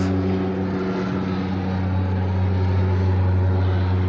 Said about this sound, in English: Seaplane taking off.